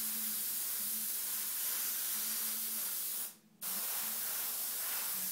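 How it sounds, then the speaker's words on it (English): Continuous airbrush hiss sprays paint steadily up close along a template edge, pausing briefly for a moment before resuming. "You see how it's spraying."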